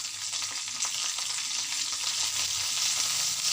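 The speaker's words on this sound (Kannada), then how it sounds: "ಈಗ 2 ಹಸಿಮೆಣಸಿನ್ಕಾಯಿ ಹಾಕ್ತಾ ಇದ್ದೀನಿ." Green chillies frying in a pan while making bitter gourd seed tambuli, a steady close sizzle with soft stirring throughout.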